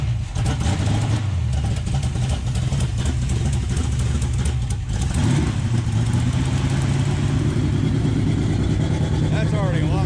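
A big-block Dodge D100 pickup with a tunnel ram intake idles steadily and loudly up close, its lumpy low rumble running continuously with a slight shift partway through, while people talk over it.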